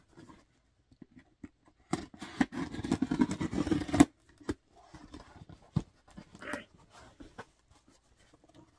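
Rustling and snipping as scissors cut through packaging, with a dense burst of crinkly cutting noise in the middle and scattered handling sounds around it.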